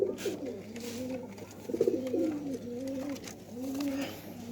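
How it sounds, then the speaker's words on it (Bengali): Pigeons kept at a home coo in repeated soft, rolling phrases close by, several calls in a row over a steady low hum. "আর আরও একটা ধরা পড়েছে কবুতর"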